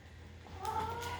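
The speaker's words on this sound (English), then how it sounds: "that's my cat." A pet cat meows close by, a drawn-out tonal call swelling in the second half over a quiet indoor background with low hum.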